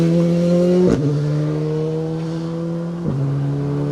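Rally cars on a tight rally stage near a hairpin, engines droning loudly with steady harmonic tones that drop and shift as they pass close by, with a couple of brief sharp bursts.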